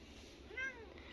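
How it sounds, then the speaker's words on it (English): A single short house-cat meow rises clearly but faintly over a quiet room, the cat grumpy as its back feet are handled. "Come on, kitty. Meow for me."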